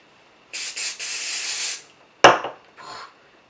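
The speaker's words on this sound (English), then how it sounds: "And I just spray my roots with it." Texture spray hisses from an aerosol can onto hair roots in a long burst of about a second and a half, then a sharp clatter follows, then one more short spray, all close up.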